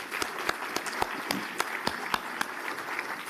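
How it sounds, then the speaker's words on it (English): Applause from an audience at a housing developer incubator launch event, moderately faint with a few sharper individual claps standing out over a soft, even patter. "we must give an applause to Human Settlement and NHFC for putting all of this together"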